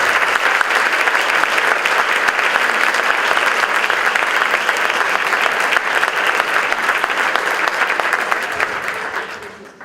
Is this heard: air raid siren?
no